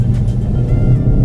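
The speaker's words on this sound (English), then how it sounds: "accelerate, just feel the back just starting to go" A Ford Focus RS hot hatch accelerating hard out of a tight turn, its engine giving a loud, close, sustained low rumble.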